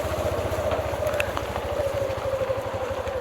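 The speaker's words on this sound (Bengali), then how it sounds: "তো বাইক নিয়ে মোটামুটি বেরিয়ে পড়েছি।" A motorcycle runs along a semi-urban village road with a steady, rapid, low engine thrum that pulses evenly throughout, close and moderately loud, with no voices.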